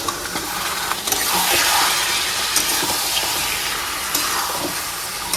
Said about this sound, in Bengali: খুব ভালো করে এবারে সব মশলাকে মিশিয়ে নিতে হবে।